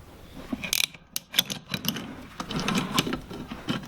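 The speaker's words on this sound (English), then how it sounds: "Now I'm going to put my wrench on it," A wrench tightens a nut buster onto a nut. The close, ratcheting clicks and metallic creaks come in irregular bursts with no talk over them.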